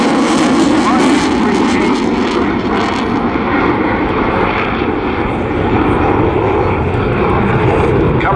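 A Eurofighter Typhoon FGR4 jet performing an airshow display roars loud and continuous, a broad steady engine rumble that never lets up for the whole stretch.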